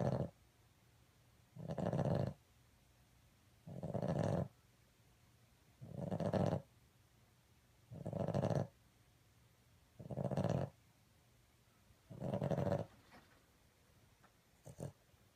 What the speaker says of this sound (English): and then she snored a lot